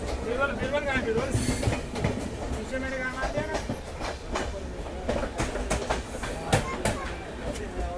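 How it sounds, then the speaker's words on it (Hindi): A 12057 New Delhi–Daulatpur Chowk Jan Shatabdi passenger train rumbles past close by with rhythmic clickety-clack wheel beats and metallic squeals, loud and continuous throughout, while people talk faintly underneath. "ये जो ट्रेन थी ये थी हमारी 12057 नई दिल्ली दौलतपुर चौक जनशताब्दी थी ये"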